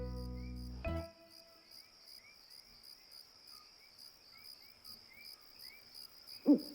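Crickets chirp steadily and faintly in a quiet night setting, after a brief tonal sound at the start and a short thump near the end.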